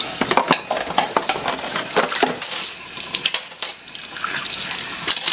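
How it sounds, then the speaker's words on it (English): Soapy water swirled around in a dish during washing, sloshing and splashing close by in quick, irregular bursts with light clinks, no voices. "If you swirl it like this, all the soapy water tends to come out first"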